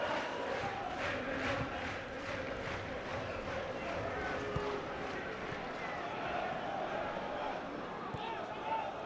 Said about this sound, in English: A few boos from the Charlton crowd.